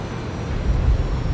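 Fokker 28 jet engines in a flight simulator game spooling down as thrust is pulled back on landing, a broad, steady rumbling whoosh with a faint high whine above it.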